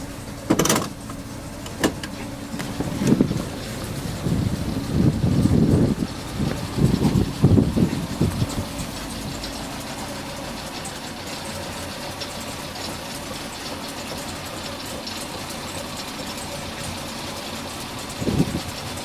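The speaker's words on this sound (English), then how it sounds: "Car rises and falls as required." Citroen CX hydraulic suspension raising and lowering the car, heard as a run of mechanical whirring and pumping pulses over a steady idling engine, busiest early on, then settling into a constant hum with a short burst near the end.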